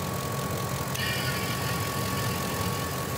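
A truck engine running at idle makes a steady, even rumble with a constant hiss layered on top and a faint higher whine that sets in partway through.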